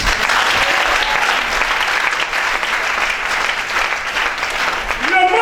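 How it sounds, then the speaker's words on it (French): An audience applauds women with dense, sustained clapping, loud and even throughout, with no voices on top. "On acclame les femmes."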